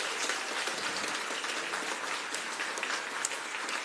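Applause at a county board of commissioners meeting, a steady, dense clapping from an audience filling the room and holding at an even level throughout.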